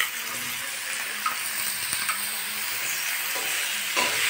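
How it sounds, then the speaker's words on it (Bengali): Chopped tomatoes go into a pan of cabbage and green peas cooking in oil, bringing a steady close sizzle and hiss with occasional stirring scrapes, and no talk over it. "এবার দেবো টমেটো কুচি, এই যে টমেটো কুচি রেখেছিলাম দিয়ে দিচ্ছি।"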